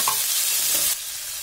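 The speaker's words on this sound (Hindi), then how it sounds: "लगभग 5 मिनट तक हमको प्याज को भूनना है।" Onion with ginger, tomato and green chili fries in a pan, a steady bright sizzle with a brief stirring scrape, close and alone.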